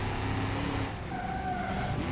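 Engine of a car with a faulty gearbox in the driving simulator game BeamNG.drive: a continuous droning motor note that dips and shifts pitch mid-way, steady and fairly loud, with no talk.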